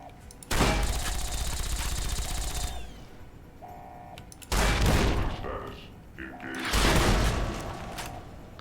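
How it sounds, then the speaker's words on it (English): Missiles exploding around the player in Fallout New Vegas Lonesome Road DLC, three loud roaring bursts of rapid blasts and crackling debris, each lasting a second or two with quieter gaps, close and heavy. "Bro's fucking throwing missiles at me."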